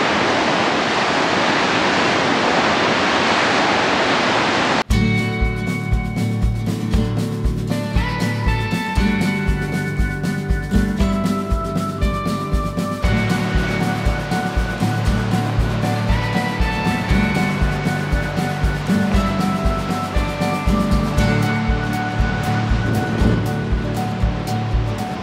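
Ocean waves crash on the rocks below Heceta Lighthouse on the Oregon coast near Yachats, first as a loud steady roar of surf, then under music for the rest of the clip.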